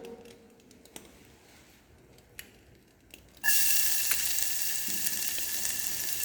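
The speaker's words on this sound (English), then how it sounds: "now we'll add a little chopped garlic to it" Chopped garlic hits hot olive oil in a pan and bursts into a loud, steady sizzle after a few seconds of quiet kitchen clicks.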